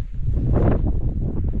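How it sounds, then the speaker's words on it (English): Strong gale-force wind buffets an MSR Access 1 tent on a Welsh mountain summit in the Cambrian Mountains, a continuous loud roaring rush with heavy low rumble and gusting surges, no voices. "It's been blowing a gale all night"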